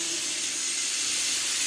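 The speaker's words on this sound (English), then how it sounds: "Okay, the steam is coming out." Steady broadband steam hiss from the valve of a laboratory dropwise and filmwise condensation apparatus with an evacuated glass chamber, continuous and fairly loud throughout, with no talking.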